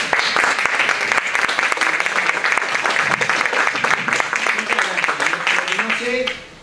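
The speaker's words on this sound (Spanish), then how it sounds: "Un aplauso." An audience applauds after a real estate talk, a sustained busy patter of many hands at close range, with voices murmuring underneath and the clapping dying away at the end.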